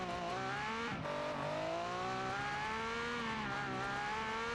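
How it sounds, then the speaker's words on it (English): Race car engine revving under load with tire wheel spin in the Automation video game, a steady harmonic engine drone with shifting pitch and a brief dip, loud and continuous throughout. "I'm getting wheel spin driving completely straight"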